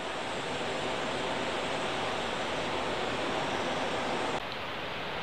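Water rushing steadily at a dam on the Humber River in Toronto's Raymore Park, a loud, continuous broadband roar that holds constant before dropping slightly in level near the end.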